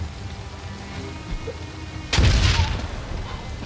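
A single grenade explosion in Lamplighter's League booms out, one sudden loud blast with a low rumbling tail that fades over a second or so against a quiet background.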